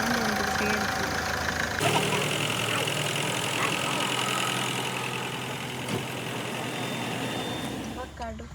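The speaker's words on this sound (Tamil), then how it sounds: "பயங்கரமாக ஆயில் லீக் ஆகிட்டு சவுண்ட் வந்துக்கிட்டே இருக்கு." A car with a severe oil leak keeps running, giving a steady rough engine drone with a shift in tone early on and a fade near the end, heard under ongoing talking.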